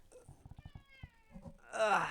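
A cat on a table gives a drawn-out meow amid soft taps and clicks, followed by a louder, harsher angry yowl that swells at the end.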